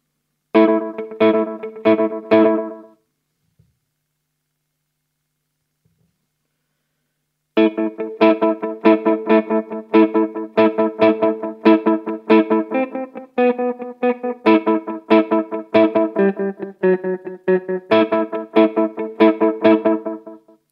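Electric guitar through a Boss DM-2W analog delay pedal: a short burst of picked notes, a few seconds of silence, then a long run of plucked notes with trailing echoes, close and clear.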